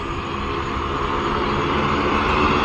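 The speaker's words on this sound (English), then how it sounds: "I hear an airplane getting ready to take off." Airplane preparing for takeoff: a steady broadband engine roar, distant but constant, slowly building in loudness over a few seconds with no voices.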